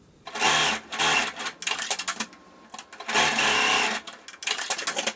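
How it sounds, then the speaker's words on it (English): A sewing machine stitching the short ends of fabric arm binding together into a loop, in several close bursts of rapid mechanical chatter with short pauses between them. "just sew them right sides together, just the short ends, to make a loop"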